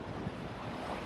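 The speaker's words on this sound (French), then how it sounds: "la houle s'est levée d'un coup" Waves and wind on open sea during a sailing crossing from Gibraltar to the Canary Islands, a steady loud wash of surf and gusting wind noise against the microphone with no talk.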